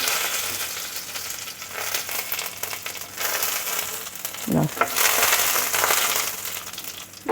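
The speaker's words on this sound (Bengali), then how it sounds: "তার মধ্যে দিয়ে দেবো একটু পাঁচ ফোড়ন গোটা তেজপাতা শুকনো লঙ্কা" Panch phoron, whole bay leaves and dry red chillies frying in oil, a steady crackling sizzle with stirring scrapes and a brief louder clatter near the middle.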